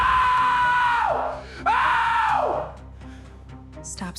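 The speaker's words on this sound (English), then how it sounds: "Stop screaming" A man screams in two long, loud, strained bursts, his voice falling in pitch at the end of each, followed by quieter muffled noises and a short, sharp sound at the end.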